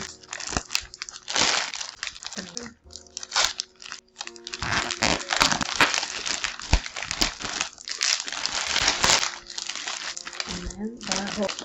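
Sticky tape is pulled and wrapped around the handle of a breakfast basket, giving repeated crinkling, crackling bursts close by, mixed with wrapping-material rustle and a voice talking at times.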